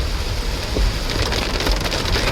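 Heavy rain drums hard and continuously on a car during a journey through a forest area, a dense, loud hiss with scattered heavier drops and no voices.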